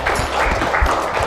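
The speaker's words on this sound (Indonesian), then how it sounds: "Tepuk tangan untuk Adik." Brief burst of classroom clapping for a student, a short patter of hands from a small group nearby.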